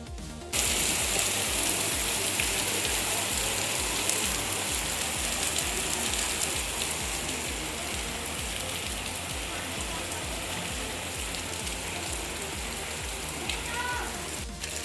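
Heavy rain pours down in a dense, continuous hiss, loud and steady, with a faint voice briefly near the end.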